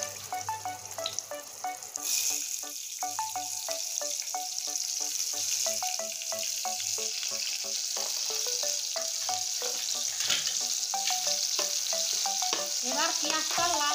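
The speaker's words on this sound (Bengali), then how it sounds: "এবার পেঁয়াজটা লাল করে ভেজে নেব।" Chopped onion fries in mustard oil for a rohu fish curry with potato and pointed gourd, a steady bright sizzle throughout with frequent small clinks and scrapes of a utensil against the pan.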